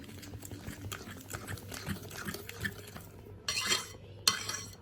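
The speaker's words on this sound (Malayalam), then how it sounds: "നന്നായിട്ട് മിക്സ് ചെയ്യാം" Banana loaf batter mixed by hand in a bowl, giving steady soft scraping and clinking strokes of a utensil against the bowl, close and moderately loud, with a few sharper knocks near the end.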